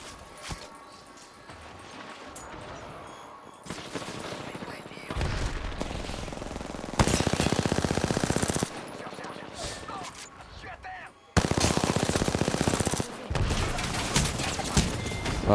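Gunfire in the Apex Legends video game, with loud bursts of automatic fire in several long dense stretches, broken by shorter pauses, under someone talking.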